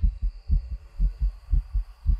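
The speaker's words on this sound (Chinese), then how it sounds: "来听我心跳声。" A heartbeat effect in the horror video game Phasmophobia thumps in a steady, evenly paced double-beat rhythm, about eight low, muffled pulses played alone over a faint hum.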